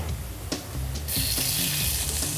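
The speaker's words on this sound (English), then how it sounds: "Saute a little bit of green beans." Green beans sauteing in olive oil, a couple of soft knocks followed by a bright sizzle that swells after the first second and carries on steadily, close and fairly loud, with no talking.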